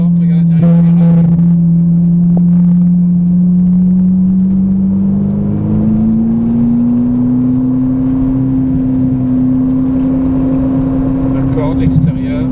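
A Ferrari Italia on a track pulls hard in fourth gear, its engine droning steadily and rising in pitch, then easing off toward braking, loud and close from inside the car, with a person talking over it.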